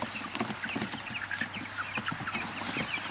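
Several chickens cluck and murmur inside a chicken tractor on a farm, a continuous, fairly close chorus of short overlapping calls.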